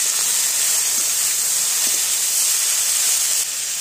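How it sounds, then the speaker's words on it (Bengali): Boiled figs and potatoes fry with salt and turmeric in a pan, giving a loud, continuous close hiss of sizzling oil that holds steady throughout with no talking. "ডুমুর আলুটা কিন্তু একটু ভালো করে ভেজে নেব।"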